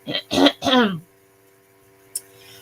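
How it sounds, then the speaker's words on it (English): A few short throat-clearing grunts close to the mic, followed by quiet and a brief click. "Let me clear my throat."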